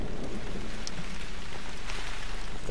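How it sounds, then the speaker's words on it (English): Heavy rain pours in the video game Lucius, a dense, loud, continuous downpour with a low rumble beneath it, heard alone without voices. "It'd be raining like a motherfucker."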